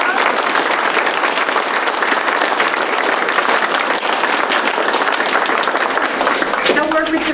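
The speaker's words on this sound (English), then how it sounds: "I want a big round of applause for all of these kiddos." Loud, sustained applause from an audience at a school board meeting honouring children, dense clapping running steadily throughout, with a brief murmur of voices near the end.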